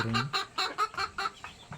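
A hen clucks in a quick, even series of about eight short, close clucks, with nothing else competing.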